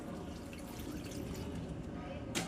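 Filtered water for potted flowering plants pours in a steady, continuous splashing stream, close and moderately loud, running unbroken for a few seconds.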